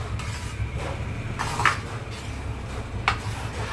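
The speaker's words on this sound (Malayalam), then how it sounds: "ചട്ടുമായിട്ട് ഒന്ന് ഇളക്കിടും" A spatula works thick jackfruit and jaggery mixture in a pan, with a steady low rumble of heat and scraping, and a few distinct metallic clinks of spatula on pan, close by.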